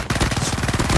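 Rapid pistol fire in Call of Duty Mobile from dual machine pistols held akimbo, a fast even rattle of close, loud shots lasting about a second.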